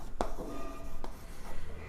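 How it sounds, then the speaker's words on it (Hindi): A teacher writes on a board during a maths lesson. A few brief, close scratching strokes stand out over a quiet room hum. "तो यहाँ पर लिखेंगे"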